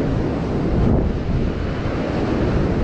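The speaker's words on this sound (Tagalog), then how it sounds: "bumalik na naman yun ang alon" Ocean surf washes in at a shore near a cave, a loud, continuous roar of breaking water mixed with heavy wind buffeting the microphone, with no voices.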